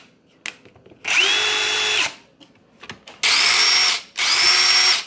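Ridgid power drill, a well-worn tool used for bathroom tile work, whirring in three loud bursts with a rising whine at each start and short quiet gaps between runs.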